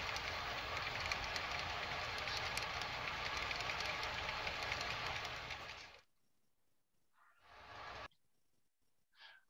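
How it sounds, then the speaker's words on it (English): A model railroad coal train runs on a layout with a continuous hissing, whirring rumble for about six seconds, then cuts out, leaving near silence broken by a couple of short bursts. "And this is the coal train."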